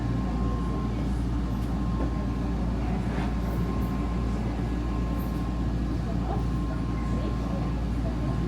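A Vancouver SkyTrain heading toward YVR Airport hums and rumbles steadily from inside the car, a constant low drone with faint squeaks and rattles throughout.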